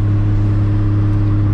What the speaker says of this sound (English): The noises that this car makes, oh man, it's just, it's hard to compare to it